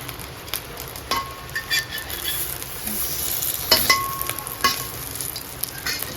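Food sizzles loudly in a hot frying pan while a utensil stirs and scrapes it, with irregular clinks and scrapes over a constant close crackle and no talking.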